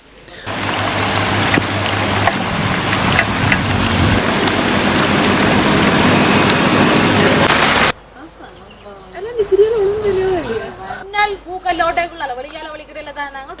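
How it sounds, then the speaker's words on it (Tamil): Heavy rain pours down steadily and loudly over flooded school grounds in Kilinochchi for about eight seconds, then cuts to quieter outdoor sound with a person talking. "பலத்த மழை காரணமாக கிளிநொச்சி சிவவாத கலையகம் பாடசாலை வளாகத்திலும் வெள்ளம் தேங்கி நிற்கின்றது"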